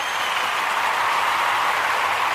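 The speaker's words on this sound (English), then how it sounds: "Let's get that Gye-Nyame round of applause" Steady wash of clapping from a crowd, dense and even across the whole moment with no voices breaking through, a continuous round of applause at an evening show.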